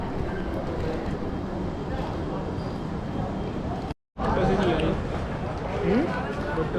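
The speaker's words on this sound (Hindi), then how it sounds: "ये है जयपुर का रेलवे स्टेशन।" Trains at Jaipur railway station: a steady rolling rumble of rail cars, with a brief cut of silence partway through. Voices can be heard over the noise.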